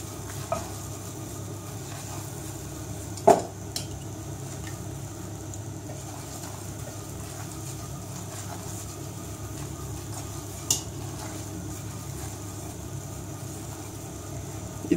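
A spoon stirs milk into a roux for béchamel sauce in a pan, a steady soft scraping and sizzling hiss with a few faint clinks over fifteen seconds.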